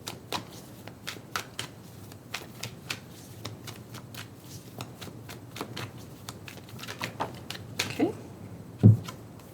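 A deck of tarot cards shuffled by hand, a rapid run of crisp riffling flicks that grows busier toward the end and finishes with a sharper tap of the cards being squared.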